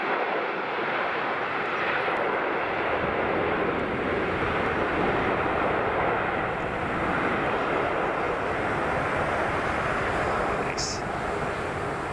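A departing aircraft climbs away from runway 09L at London Heathrow Airport, its steady, loud broadband jet roar filling all twelve seconds without a break.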